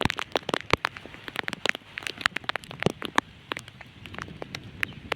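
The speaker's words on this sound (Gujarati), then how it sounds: "વરસાદ વરસાદ જવો આમ કેટલો બધો ચાલુ છે" Heavy downpour at Piparla, heard as dense crackling patter with sharp close drops striking nearby surfaces in quick irregular bursts.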